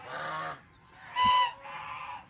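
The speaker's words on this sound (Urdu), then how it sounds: "یہ بڑی اٹکیلیاں کرتی ہوئی اور کچھ نہ کچھ کہتی ہوئی آپ کو نظر آئیں گی" White ducks on a shrine pond giving three loud, drawn-out nasal calls, each lasting about half a second with short pauses between, close to the listener and with no talk over them.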